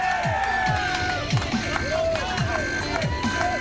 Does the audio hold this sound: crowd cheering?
yes